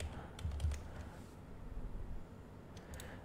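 Fingers typing on a computer keyboard, a few quick soft clusters of key taps at close range, faint and alone.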